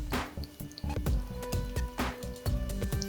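Diet Coke pours into a small tub during chrome bumper polishing on a Lotus Europa, with a steady liquid trickle and rhythmic dripping and splashing, close and moderately loud.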